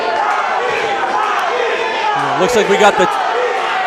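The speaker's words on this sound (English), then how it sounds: "the crowd behind Tony, getting him back to his feet" Spectators at a Supremacy featherweight championship MMA bout roar behind fighter Tony Wheeler Jr., a dense crowd din beneath steady commentator talk, with a few louder shouts rising near the end.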